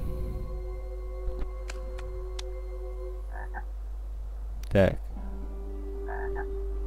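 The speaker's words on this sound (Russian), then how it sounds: "Лягушка. Красная..." A red frog croaks once in the video game Lost in Play, a short, loud, throaty rattle midway through, set against quiet game ambience with faint chimes and soft tones, and someone speaks one brief word.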